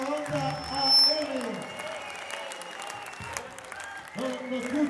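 Audience applause for a band at a charity dinner continues throughout, mixed with a voice and some tonal sounds over it.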